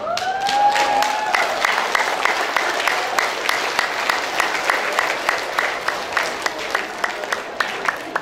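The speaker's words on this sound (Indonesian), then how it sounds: "Tepuk tangan jika putarannya melebihi putaran yang pertama" An audience at a motivational talk claps steadily after a stretching exercise, a dense run of many hands lasting throughout, with a brief voice at the start.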